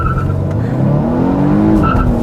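A Volvo S60 T8 Polestar Engineered in sport mode launches from a standstill, its engine rising in pitch as it pulls away hard. The sound is close, steady and loud, with no talk.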